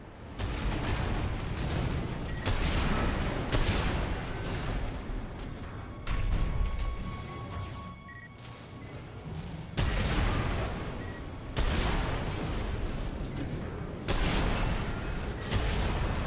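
Shotgun fire in the mech combat game Armored Core VI: heavy, booming blasts repeat every couple of seconds, loud and close, with mechanical clanks and rumbling battle noise between shots.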